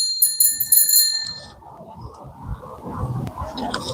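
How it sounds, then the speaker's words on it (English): An old-school bicycle bell on an e-bike rings bright and metallic in a quick run of dings, then gives way to low rumbling road and motor noise. "That's old school type of bell."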